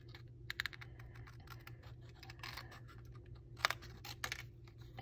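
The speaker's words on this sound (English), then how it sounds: "Then just take your paper snips" Paper snips cut around a stamped paper stocking cuff, a series of faint, quiet clicks and crisp snipping sounds at an uneven pace against a low background hum.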